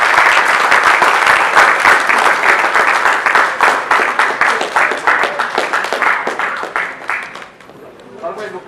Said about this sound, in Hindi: कुणाल जी ताली बजाएं जोर से यार।